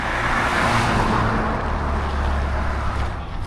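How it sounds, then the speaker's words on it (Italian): A Soviet-style van drives past on the road, its broad low engine rumble and road noise loud and steady throughout, easing slightly toward the end. "Bellissimo questo furgoncino stile sovietico"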